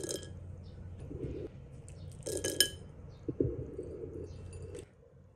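Washed black beans are tipped onto a dish in a kitchen, giving a few bright clinks of tableware and a brief rattle, set against a steady low hum of background noise.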